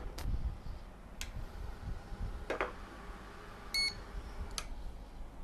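Expiry date printer on a factory conveyor, fired by a sensor as each package passes: a few sharp isolated clicks and ticks spaced over several seconds, one brief electronic beep, over low machine hum.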